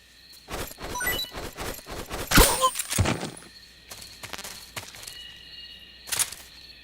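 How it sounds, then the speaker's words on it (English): Footsteps in the Metal Gear Solid 3: Snake Eater video game, a series of crisp, evenly spaced steps with sharper impacts and scuffs mixed in, moderately loud and close, with no talking. "I heard footsteps."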